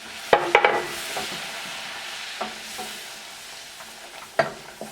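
A spoon stirs flour into melted butter in a pan for a béchamel sauce, with a soft steady sizzle under a few sharp metallic clinks and scrapes of utensil against the pan.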